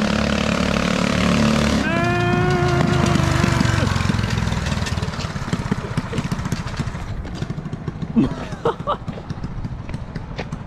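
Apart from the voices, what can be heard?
engine of a small loud bike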